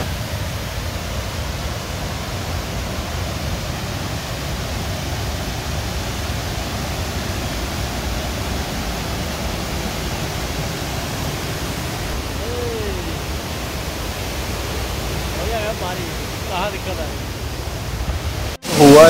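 A Himalayan mountain stream near Dumak village on the Rudranath trek, swollen by heavy overnight rain, roars loudly and steadily with dense rushing water. A brief clatter comes right at the end.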